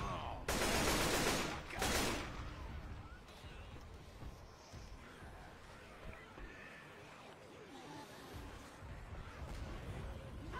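Video game gunfire, two loud bursts of rapid shots early on, then quieter game sounds and background noise with people talking.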